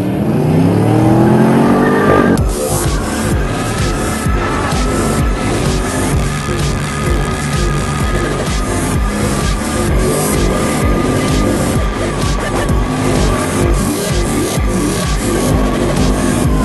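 A car drifts with sustained, loud tire squeal and a revving engine; a brief lower rumble comes first, then a continuous screech runs throughout.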